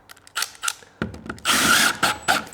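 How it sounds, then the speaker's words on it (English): A power drill boring a pilot hole into wood during chicken coop and run construction, short bursts of motor whine and grinding that stop and start, then a longer steady run near the end, close by. "Pre-drill that out."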